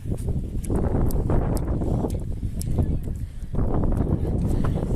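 Rough, blustery wind buffeting the microphone, loud and continuous with a brief lull before gusting back up.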